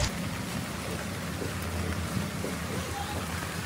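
Heavy rain pouring during a storm at a seaside spot in Quy Nhon, a dense steady hiss of falling water with a low rumbling undertone, continuous and fairly loud without speech.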